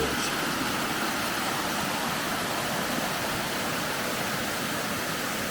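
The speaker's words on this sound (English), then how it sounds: "this is a beautiful cascading stairway type waterfall" Rhodo Falls, a cascading stairway-type waterfall on a forest trail, gives off a constant, even wash of rushing water at moderate distance, with no talking.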